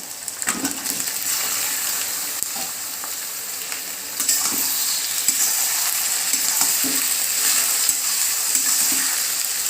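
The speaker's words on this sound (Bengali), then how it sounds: "এবার আমি চিকেনটা এর মধ্যে দিয়ে দেবো" Chicken pieces frying in a pan while being stirred, a steady loud sizzle with scraping and clinking of the spatula, the hiss swelling as fresh pieces hit the oil partway through.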